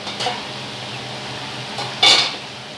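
A lid is set onto a pot of boiling prawn muitha after the gas is switched off, giving two short metallic clanks of pot and lid, the second louder, against a quiet kitchen background.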